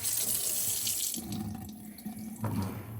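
Water runs steadily from a tap onto a piece of fabric to test whether it resists soaking. The pour is loud and continuous for the whole stretch, with no voices over it.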